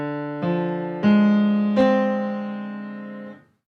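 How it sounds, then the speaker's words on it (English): A half diminished chord sounds in three separate attacks, each sustaining and layering over the last before ringing out and fading, with no voices. "that's the sound of a half diminished chord"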